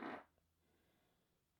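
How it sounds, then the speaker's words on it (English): A brief, loud fart bursts out at the very start, then fades to quiet room tone. "I hope you didn't get that fart."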